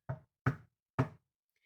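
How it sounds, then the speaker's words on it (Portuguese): Three sharp, evenly spaced knocks on a wooden door, close and distinct, each ringing out briefly before silence. "o feiticeiro bateu à porta"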